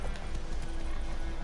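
Hooves of a horse galloping in the video game The Witcher 3, a quick steady clip-clop rhythm running throughout at moderate loudness over a dense game soundscape.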